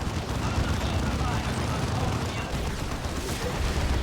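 Psi cannons fire in a Dawn of War 2 battle as Eldar squads take on Purgation squads, a dense, continuous roar of overlapping blasts and impacts with commentary talking over the din.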